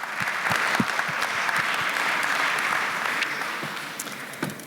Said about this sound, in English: give them a very big and a warm round of